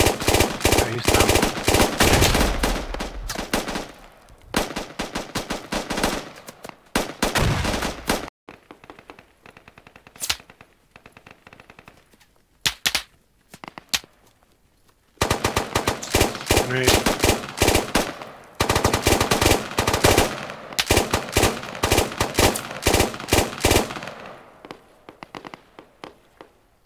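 SAW light machine gun fire in the game Squad, long loud sustained automatic bursts separated by short pauses, dominating the scene with a few scattered shots between.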